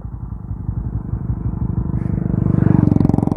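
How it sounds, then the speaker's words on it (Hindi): Motorcycles passing on a road, their engines rumbling steadily and growing louder as one draws close near the end. "बाइकें तो आ रही हैं"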